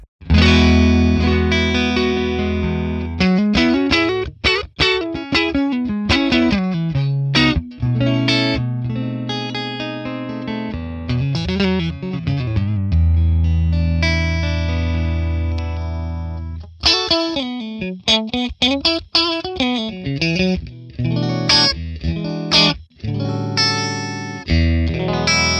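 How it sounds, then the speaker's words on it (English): Stratocaster through a Friedman Plex tone model on the Jumped Clean Fat setting, playing sustained chords, quick picked runs and bends with full, slightly crunchy clean tone, loud and upfront. "let's start right away with the Friedman Plex Jumped Clean Fat setting"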